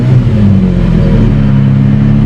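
A 2002 six-speed car's engine running just after starting, a loud, close steady idle hum with a faint rising rev early on, no voices.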